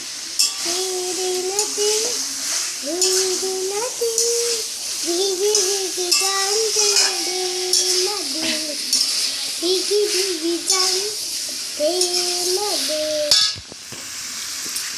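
Chicken cooks in a little oil in a pan with new potatoes, giving a continuous sizzle with occasional stirring scrapes while a voice sings or hums over it throughout.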